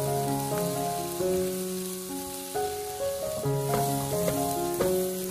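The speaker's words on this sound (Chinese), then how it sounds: "然后开大火快速的翻炒一下，翻炒均匀，把白菜帮和西红柿给它融合在一起" Cabbage stalks and tomato stir-fried fast over high heat in a wok, a steady sizzle running beneath continuous background music.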